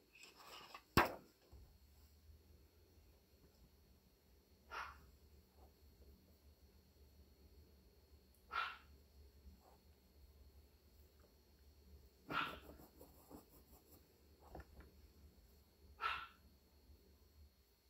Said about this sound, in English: Little chihuahuas and they're barking.